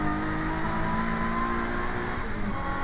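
A saloon race car at Silverstone, one of the Blue Oval Saloon Series Ford field, accelerates hard up through the gears, its engine loud and sustained with steady harmonic drone and no pauses.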